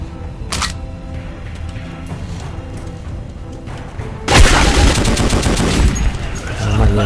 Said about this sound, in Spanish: Por fin ya tengo una puta ametralladora. Una AK-47